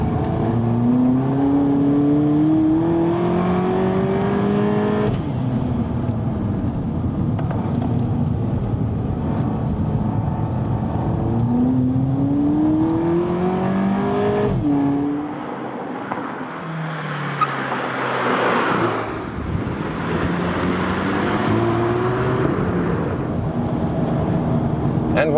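A car driven hard through racetrack corners. The engine note rises and falls in repeated sweeping revs as it accelerates and lifts, loud and close throughout, with a brief dip in the middle.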